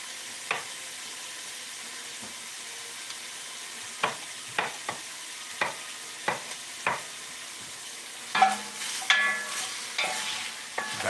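Lean ground beef browning in a pan, a steady low sizzle with spaced spatula taps and scrapes, then a burst of louder stirring at the end, close and with no talk.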